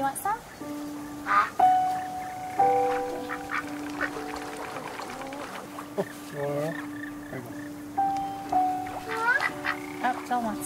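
Ducks quack and honk in the video game That Dragon, Cancer, a series of nasal calls scattered through the scene while a person talks over them.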